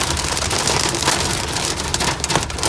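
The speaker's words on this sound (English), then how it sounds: "That's all hail on the road right there." Severe hail pelts a car while it drives through a storm, a dense, loud, continuous drumming of ice on the body and roof with no voices.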